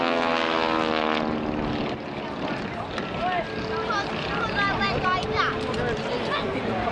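A Fairey Swordfish W5856 biplane flying at the Blackpool Air Show 2023, its propeller engine giving a loud, steady droning hum throughout while an announcer talks over it.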